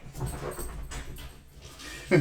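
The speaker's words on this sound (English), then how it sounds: "I'm gonna go play with my dog now." A dog pants and whimpers softly nearby in steady breathy bursts, with a louder yelp or whine near the end.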